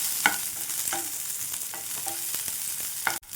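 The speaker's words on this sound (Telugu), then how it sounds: "పచ్చిమిర్చి కూడా మనకు వేగడం స్టార్ట్ అయింది" Cut green chillies fry in a pan over medium flame for a tamarind chutney, a steady close sizzle broken by a few sharp scraping stirs of a spatula.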